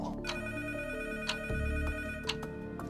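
A telephone rings steadily with a repeating electronic bell-like tone, fairly close and clear, with faint low background noise.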